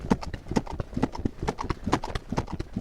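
A ridden horse's hooves clip-clop in a quick, steady rhythm close by near a lake, each footfall crisp and even, with no other sound.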